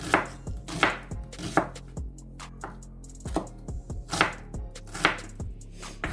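A knife chops onion on a cutting board in steady, rhythmic strokes, each a sharp close thud, with brief pauses between runs and no talking.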